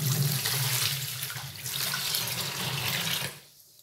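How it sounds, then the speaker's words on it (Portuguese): Liquid pours steadily into a homemade soap mixture for a few seconds, a close, continuous splashing rush that cuts off abruptly near the end. "E vou colocar 1 litro da minha água amarela."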